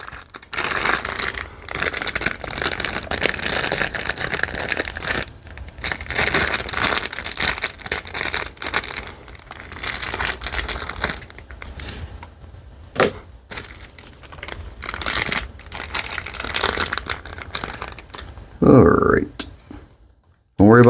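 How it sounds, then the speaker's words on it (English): Crinkling and crackling of a plastic bag being cut with scissors, close and continuous, with a voice talking over much of it. "So these bags are really easy to open. Literally just cut"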